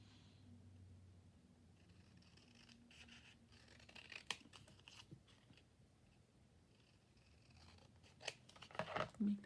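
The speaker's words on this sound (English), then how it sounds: "I'm going to trim this down just a little bit." Scissors trimming paper for a collage, several soft close snips and slicing cuts in short clusters, faint and quiet, with a person talking softly at times.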